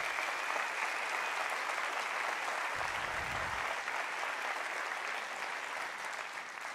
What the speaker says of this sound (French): Vous avez raison de les applaudir.